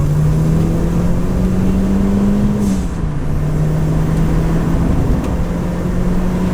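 A warmed-up Renault 5 GT Turbo accelerates hard with a loud, steady engine drone, its pitch rising and then dipping at a shift before climbing again.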